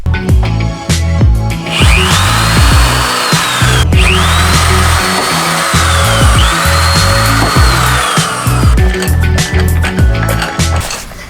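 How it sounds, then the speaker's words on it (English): A power drill whirs in repeated bursts while fitting side skirts to a Honda Civic EK hatchback, its pitch rising as it spins up, with clunks and scraping of work between runs; loud and close. "I'm gonna drill one right here as well, just so it has more base"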